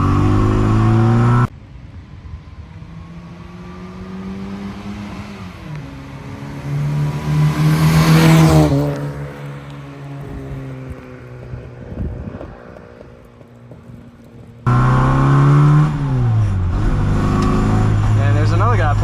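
A 1965 Austin Mini Cooper S engine drones loudly from inside the moving car, its pitch rising and falling with gear changes, softening mid-stretch before surging back up near the end, with wind noise and talk over it.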